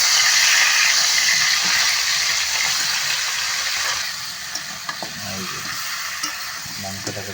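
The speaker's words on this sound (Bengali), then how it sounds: "প্রথমে ফ্রাই করার কাজ চলছে" Chicken leg pieces fry in a pan at home for a spicy chicken kosha, giving a loud, steady sizzle that eases slightly midway, with occasional soft clinks of stirring and no talking.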